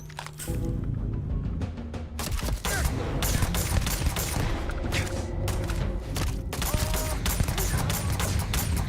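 Dense gunfire in the video game Starfield, rapid overlapping shots and bursts with booming thuds, loud and nearly continuous after a brief quiet start.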